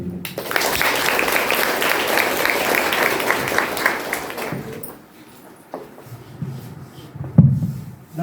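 An audience claps steadily for about four seconds, then the applause stops abruptly, leaving quieter room noise and a few scattered knocks.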